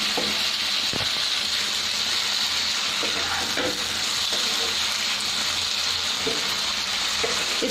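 Ridge gourd and potato curry fries in a pan, giving a constant close sizzle with occasional light knocks and scrapes of stirring, no talking.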